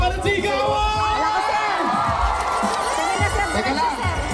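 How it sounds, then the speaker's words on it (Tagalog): A large outdoor crowd at a candidacy filing event for the 2025 election in Tanza, Cavite, cheering, whooping and shouting in a loud, continuous roar, with scattered voices rising above the din. "isang palakpakan ng sigaw!"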